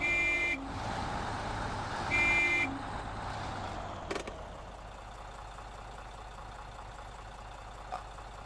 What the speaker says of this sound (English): The honk is not that great.